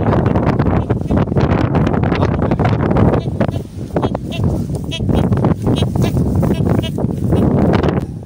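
Wind gusts buffet the microphone outdoors at a ruined 1940s farm, producing a loud, continuous low rumble with brief lulls and occasional rustling across the whole stretch.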